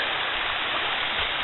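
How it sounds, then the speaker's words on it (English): Creek water in a Tennessee river-bend setting cascades steadily into a deep pool, a dense continuous rushing roar close by with no pauses. "there's a lot of water comes through this part of the, all the parts of the creek"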